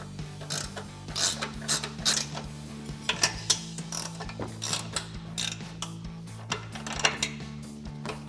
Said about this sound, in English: take your 16mm wrench, and we're going to be installing the top bolts on the strut top